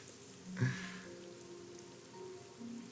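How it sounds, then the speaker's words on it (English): Steady rain falls outside on an abandoned building rooftop in the video game Rain Code, a constant soft hiss of drops on surfaces with one brief louder patter near the start. "Oh, it's raining outside."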